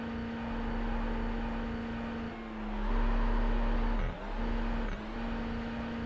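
A simulated TCR race car engine in iRacing holds a steady, buzzing rev near the red line during a standing start, briefly dipping and climbing again, loud and continuous with no talk over it.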